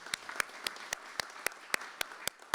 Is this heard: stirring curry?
no